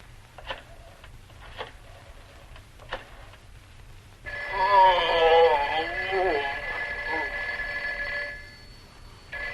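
Telephone in a 1951 film scene rings in a long sustained trill after a few faint ticks, fairly loud and alone without talk.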